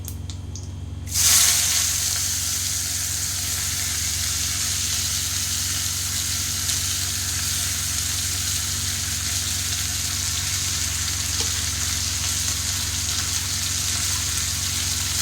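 Onions tipped into hot oil with whole cumin while making an egg curry, starting with a sudden loud burst of sizzling that settles into a steady, close, unbroken hiss.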